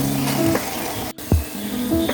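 Jackfruit halva stirred in a pan, a soft sizzle with scraping strokes and a brief low clatter midway, with no voices.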